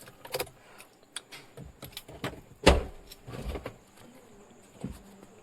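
A Mahindra Scorpio manual with a 140 hp engine is locked after parking at night, giving a sharp central-locking clunk amid faint keys jangling and scattered soft clicks and taps, with no talk.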